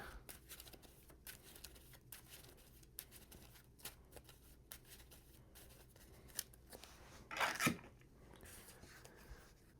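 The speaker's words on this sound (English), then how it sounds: "So we'll shuffle that in." Marvel Champions playing cards being shuffled into a deck, heard as soft, faint papery rustles and clicks with one brief, louder burst of card handling near the end.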